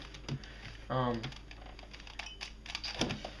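Shengshou/YJ 5x5 puzzle cube being turned, quick light clicking bursts close by, mixed with a person's talk.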